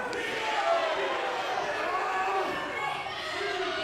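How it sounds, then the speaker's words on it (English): A wrestling arena crowd roars and chants in a steady, rhythmic swell, heard as a broad wash of many voices from a distance. "The crowd says it's Clay that sucks."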